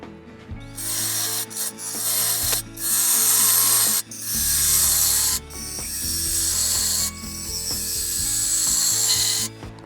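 A wood lathe turns a bowl while a cutting tool scrapes the spinning wood in long, loud rasping passes, broken by brief pauses over a steady motor hum.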